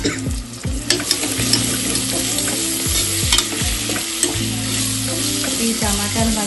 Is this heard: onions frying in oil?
yes